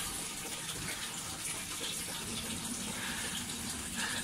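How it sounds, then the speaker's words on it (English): A hot water tap runs steadily in a home during a boiler low-pressure fix, a continuous close gushing flow with no pauses. "I'm running my hot water tap"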